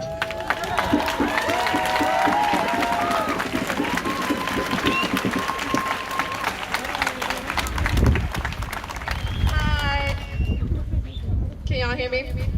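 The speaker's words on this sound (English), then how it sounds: "please give them a round of applause" A protest crowd applauds and cheers outdoors, a steady wash of clapping at moderate distance lasting several seconds, with voices and whistles mixed in and a brief lull near the end.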